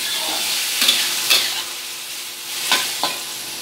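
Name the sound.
tomatoes being roasted and stirred in a pan for palak moong dal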